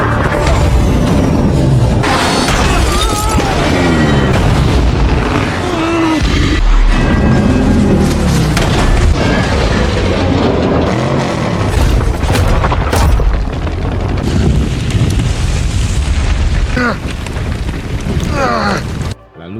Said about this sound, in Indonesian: sehingga 3 truk milik Owen terbalik dan meledak